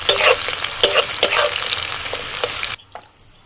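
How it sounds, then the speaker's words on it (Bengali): Cashews and raisins frying in oil in a pan sizzle steadily while they are stirred, with scraping knocks at intervals. The sound stops abruptly near the end and leaves near silence. "প্রথমে তেলের মধ্যে কাজু কিশমিশ দিয়ে দিলাম।"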